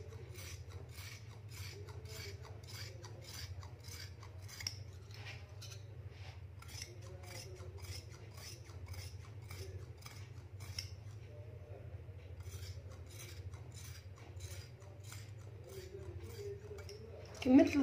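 Scissors cutting velvet fabric for a dress, making a steady series of close, rhythmic rasping snips over a low background hum, fairly quiet, with a brief louder bump at the end.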